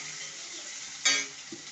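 Onions tipped into hot oil in a pan for lemon rice give a sudden loud sizzle burst that settles into steady frying hiss, with a faint stir or clink just after.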